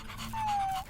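A dog pants in the video game Minecraft Story Mode, a brief close burst of quick breaths with a faint high whine over game ambience.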